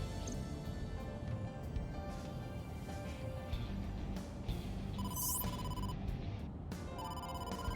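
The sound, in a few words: phone ringing with incoming call in AI: The Somnium Files video game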